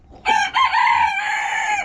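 A black hen calls out loudly and close by, a short sharp note followed by a long drawn-out crow.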